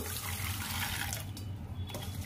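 Tap water runs steadily into a bowl or sink while red lentils are rinsed, a close, continuous splashing gush with no talk.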